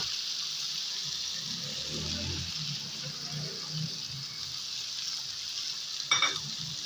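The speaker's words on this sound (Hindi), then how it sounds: "साथ हम डाल रहे हैं हरी मिर्च को काट के रखी हुई थी और इसको थोड़ा सा फ्राई कर लेंगे" Chopped green chilies and spices frying in oil in a pan for a bhindi and gola kabab dish, a soft steady sizzle with faint stirring and a light clink near the end.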